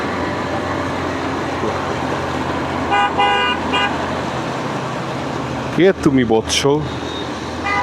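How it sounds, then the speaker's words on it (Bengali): A vehicle horn honks from behind in a few short, steady bursts over continuous road and motorbike engine noise in Dhaka traffic, followed by a nearby voice speaking briefly. "পিছন দিয়ে হর্ন মারছো শুধু"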